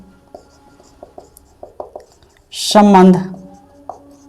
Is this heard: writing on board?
yes